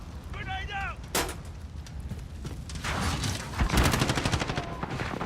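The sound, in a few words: grenade explosion in a video game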